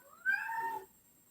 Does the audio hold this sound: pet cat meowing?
yes